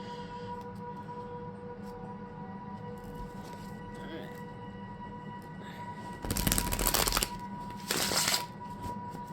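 A large tarot deck being shuffled by hand, giving two short bursts of riffling card noise over a steady background hum.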